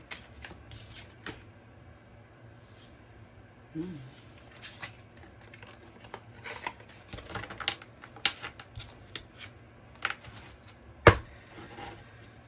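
Tarot cards riffled and shuffled by hand at close range, a run of soft papery flicks and taps that builds into denser bursts, with a sharp snap near the end.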